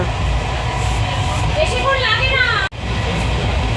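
Steady low rumble and rattle inside a nearly empty moving train running late, continuous throughout, with a brief cut near the end and a voice heard faintly over the noise.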